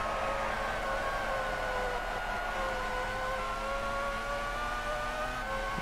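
A Formula 1 car in a PS1 racing game at the Brazil round whines past, its engine pitch sliding downward as it goes by over a steady buzzing engine drone.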